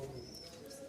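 Highflyer pigeons in Kolkata give a soft, brief, low coo, close by and steady over a quiet background.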